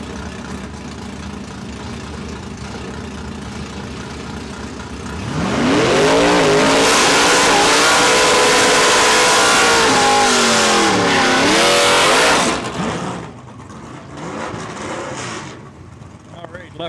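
Drag race cars roar off the line at a drag strip and accelerate hard down the track for several seconds, the loud engine rising through gear changes before fading. Idling and crowd noise can be heard before and after.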